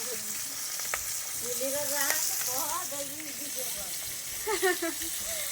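Bahal fish frying in oil on a clay stove, a steady close sizzle and hiss with occasional stirring scrapes, while people talk over it throughout.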